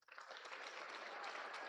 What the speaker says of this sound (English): how about a round of applause for our judges?